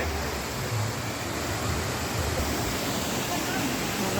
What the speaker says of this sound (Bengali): আমরা ঝর্ণাতে চলে আসছি।